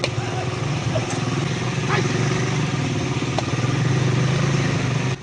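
A motorbike rides the muddy Bamenda–Wum road in the rainy season, its engine giving a steady, close, continuous drone with rumbling road noise throughout.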